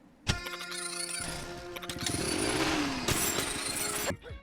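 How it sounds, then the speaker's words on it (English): Pepper's drill revving up in the video game Pepper Grinder, a loud, buzzing motor whine with a sharp start that runs steadily for about four seconds, sweeping in pitch before cutting off abruptly. "Each level begins with Pepper activating her drill, and it has a very satisfying sound effect"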